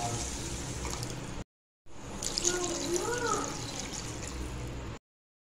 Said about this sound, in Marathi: याच्यात आपण 2 ग्लास पाणी टाकणार आहोत।